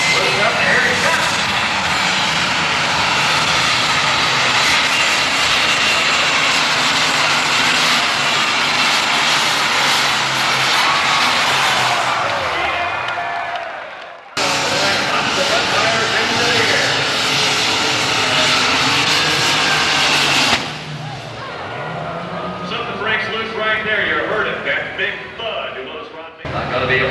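Super stock pulling tractor roaring loudly at a 1993 NTPA Grand National tractor pull in Canfield, Ohio, a sustained full-throttle engine blast that briefly cuts out and resumes, with an announcer's voice over it.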